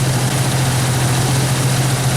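A Jeep Wrangler engine idles with a steady, close, low droning hum that holds evenly throughout, with no talking.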